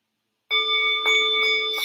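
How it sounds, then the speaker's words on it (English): A bell rung during a live remote viewing and tarot session begins after half a second of silence, then holds a bright, steady ringing tone with layered overtones that stays loud and sustained without fading, with no voices over it. "Here, we must ring the bell."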